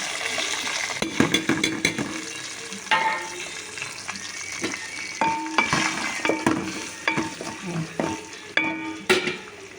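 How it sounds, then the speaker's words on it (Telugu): Onion and green chilli pieces fry in a hot tempering of mustard seeds and dried red chillies, a steady sizzle broken by repeated scraping stirs and clinks of a spoon against the pan. "ఇలా కలిపేసుకున్నాక తాలింపు ఉల్లిపాయ ముక్కలు వేసేసుకోవాలి."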